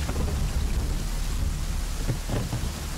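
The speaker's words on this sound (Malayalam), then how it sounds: "നല്ല മഴ." Heavy rain with thunder in a scene from the Malayalam film Gaganachari (2024), a dense, steady downpour with a low rumble of thunder underneath, continuous throughout with no talking.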